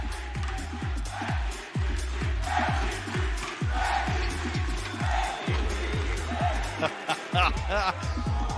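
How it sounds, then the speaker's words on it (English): An arena crowd at a VCT Masters Valorant knockout match chants and claps in a loud, regular beat about twice a second, with shouting and commentator voices over it. "He set the crowd off."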